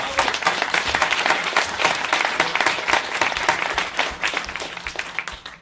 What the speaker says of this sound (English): So, fair play to Tommy, I think he deserves a round of applause.